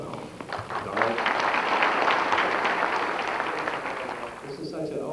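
An overwhelming crowd at a 2003 NEAR Hall of Fame induction applauds steadily and loudly, a dense wash of clapping that lasts the whole moment before a voice begins to speak at the end.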